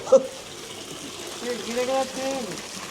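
Water pours from a pipe at a Ganesh festival display, a soft steady splash and gush heard faintly under crowd noise and a nearby voice.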